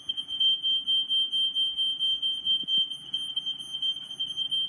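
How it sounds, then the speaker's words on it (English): A smoke alarm in a garage beeps in rapid repeated bursts, a shrill, piercing electronic tone that stays steady throughout, with faint rustling and handling noises beneath it. "smoke alarm in the garage."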